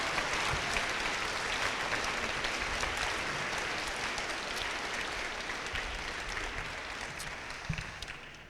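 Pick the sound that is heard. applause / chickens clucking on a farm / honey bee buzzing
applause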